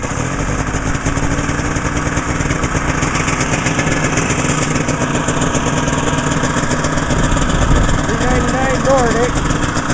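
A Ski-Doo 399 TNT snowmobile engine runs steadily after start-up, a loud, close, rapidly pulsing two-stroke drone that holds constant throughout, with a voice briefly heard over it near the end.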